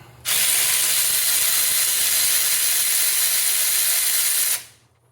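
A ratchet with a long socket extension works bolts out of a 152 Comanche engine from a 1963 International Scout, making a loud, steady whirring that runs unbroken for about four seconds and then stops.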